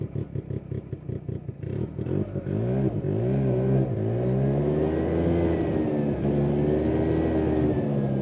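A 1971 Arctic Cat Panther 303 snowmobile with a single-rotor Wankel engine, first chugging in rapid uneven pulses, then revving up and holding a loud, smooth, buzzing drone with a faint whistle, close by.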